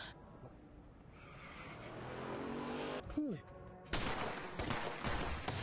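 A burst of rapid gunfire erupts after a car skids and screeches, with sharp rattling shots and someone speaking underneath.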